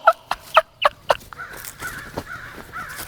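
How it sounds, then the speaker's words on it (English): A crow cawing loudly nearby, four sharp evenly spaced caws followed by a harsher, drawn-out rattling call, heard alone. "Like that crow that just scared the shit out of me."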